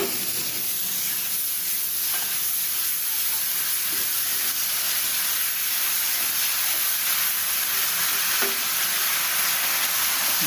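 Green chillies frying in a hot pan for pickle give a steady, even sizzle and hiss with faint stirring scrapes, close by and continuous with no talk.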